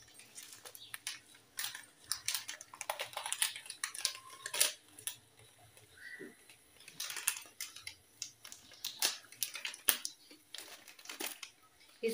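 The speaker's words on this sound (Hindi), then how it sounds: "आप ना इसको ऐसे ही चम्मच में चलाते रहना है" A metal spoon stirs kheer mix into milk in a pot, producing rapid, irregular clinks and scrapes against the pot throughout, fairly close and moderately quiet, with someone speaking intermittently.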